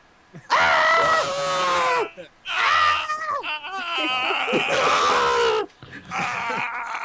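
Several people scream loudly and at length in three long bursts separated by short gaps, their voices wavering and strained, recorded close.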